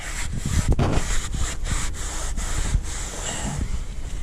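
Steady, close rubbing of sanding on the headliner of a 2018 Jeep Wrangler JL Rubicon, with repeated scraping strokes running continuously for several seconds and no voices.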